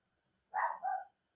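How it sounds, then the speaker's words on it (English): A dog gives a single short, two-part bark, muffled and fairly faint as if from another room, followed by quiet. "my dog is barking like crazy now"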